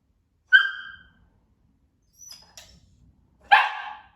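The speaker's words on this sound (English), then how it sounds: "he wants to bark with his front paws on the stool" A dog barks twice, sharp and close, with a quiet pause between the barks and a few faint noises in between.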